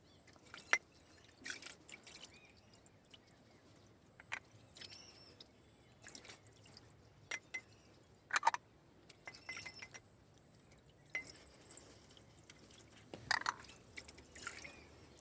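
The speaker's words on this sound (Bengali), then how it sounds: "কিভাবে আমার এই মাটির জিনিসপত্রগুলো ধুয়ে মুছে পরিষ্কার করে রাখি" Clay earthenware cookware is washed with water in a village home: scattered faint drips, splashes and light knocks of pottery come in irregular bursts, quiet and close, with no speech.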